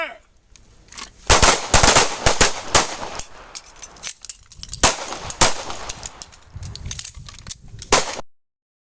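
Rapid pistol shots at an outdoor shooting range during a combat drill, sharp loud cracks fired in quick bursts and overlapping volleys across most of the clip, with a brief shouted command among them.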